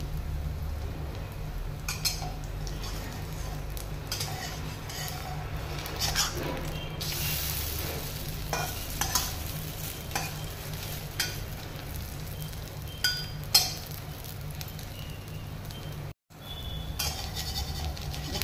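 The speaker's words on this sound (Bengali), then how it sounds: "আমি এখানে একটু সাদা তেল দিয়ে কড়াইয়ের মধ্যে ছোট ছোট করে ভেজে নিচ্ছি।" Oats chilla frying in white oil in a kadai, a faint steady sizzle with a low background hum and occasional soft clinks of a utensil, with no talk.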